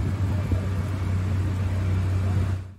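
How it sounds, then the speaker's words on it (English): Food trucks outside a courthouse in Walterboro on the first day of a murder trial produce a steady low engine or generator drone. The drone is loud and continuous, with faint background street noise, and fades out at the end. "That's food trucks on the first day of the double homicide trial of Alec Murdaugh."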